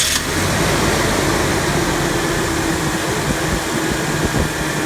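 A steady mechanical hum of a running car engine, continuous and even, with fan-like broadband noise and no voices.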